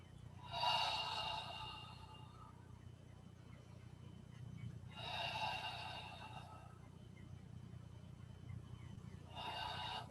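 Three slow, deep breaths during a yoga class, each a soft airy inhale-exhale lasting a couple of seconds, evenly spaced over quiet room tone.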